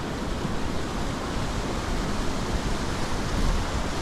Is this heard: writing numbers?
no